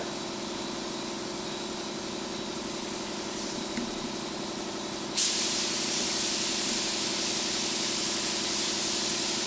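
Glue-like adhesive sprayed onto plastic for hydroprinting gives a steady aerosol hiss over a constant mechanical hum, then a sudden louder, brighter spray burst starts partway through and continues evenly.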